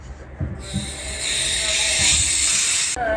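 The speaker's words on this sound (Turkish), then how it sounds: "Ve şu an bunun içinde biraz gaz kalmış olması lazım. Onu da şu ağzını artı kutuba çevirerek boşaltıyoruz." Leftover gas hisses loudly and continuously from a combi boiler gas cylinder adapter as it is emptied, preceded by a few dull handling knocks and cutting off sharply near the end.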